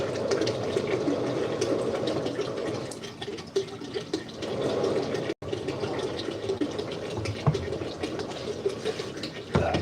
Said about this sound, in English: I'll try and slow down on this pouring so we can get some space.